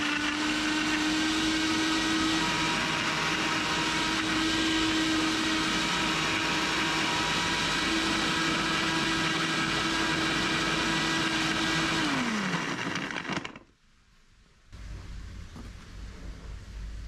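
A kitchen blender purees ingredients with 50 ml of added water, a loud steady whirring drone that runs for about twelve seconds, winds down abruptly, then a brief quiet gap before a low hum resumes.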